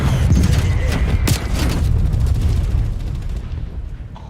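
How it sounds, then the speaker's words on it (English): Video game artillery barrage: a dense run of loud booms and crackling gunfire, with one sharp blast standing out, then a slow fade into rumbling decay. "Targets requesting artillery barrage."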